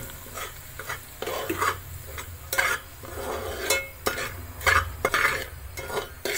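Semolina roasting in ghee in a pot as a spoon stirs and scrapes repeatedly, with a steady light sizzle under irregular scraping strokes, close up and without talk.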